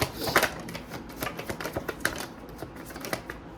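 Tarot cards are shuffled close up in a quick run of crisp riffling clicks and flicks, with a few louder snaps near the start.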